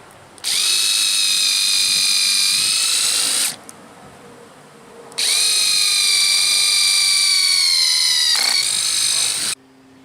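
A power drill bores pilot holes into a wooden mailbox post, running in two loud, steady bursts of about three seconds each with a brief pause between and a slight pitch drop near the end.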